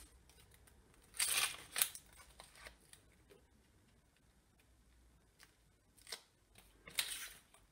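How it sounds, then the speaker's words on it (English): Dry papery onion skin is peeled away by hand in a few short crinkly rustles, faint and close, separated by quiet pauses. "And I'm going to take the skin off, dry papery bit, just by peeling."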